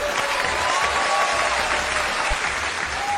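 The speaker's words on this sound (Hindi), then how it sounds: "तालियां तालियां।" Studio audience applause at a Pakistani satirical comedy news show, steady and fairly loud clapping filling the whole stretch without a break, with no speech over it.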